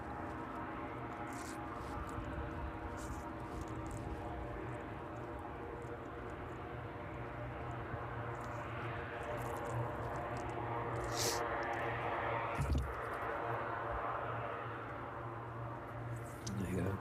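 A Beechcraft King Air turboprop comes in to land on runway 27 at East Midlands Airport on a chilly evening, a steady, fairly distant engine roar and rumble that swells slightly toward the end.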